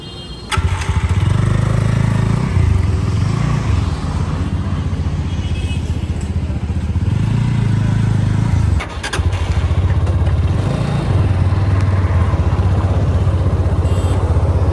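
A GPX Demon 165R Da Corsa 2 motorcycle being ridden, its engine droning loud and steady close by with small shifts in pitch and one brief dip partway through.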